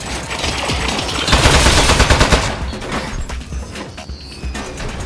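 Rapid turret machine gun fire in the Aperture Desk Job video game, a loud, dense rattling burst that swells to a peak midway, then thins into scattered hits and clanks, close and alone without voices.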